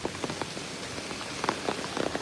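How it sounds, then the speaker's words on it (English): Rain falls steadily outdoors along a boardwalk, a soft patter of scattered drops tapping on surfaces, quiet and even with no talking. "Do platypuses care that it's raining?"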